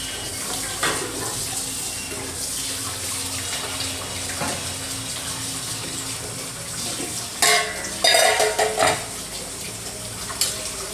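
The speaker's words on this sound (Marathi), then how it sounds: "चिकनचा स्टॉक घालतोय आधी थोडासा." Chicken stock poured into a pan of frying masala with red chili powder and ground garam masala: a steady close sizzle and stir, swelling into louder splashing hiss and scraping near the end.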